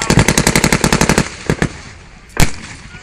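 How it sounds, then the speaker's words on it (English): German machine guns firing at a battle reenactment: a rapid, loud burst of rhythmic automatic shots, then a few separate reports and one heavier bang after a pause, all close and without talking. "what you can hear is the devastating fire of the German machine guns"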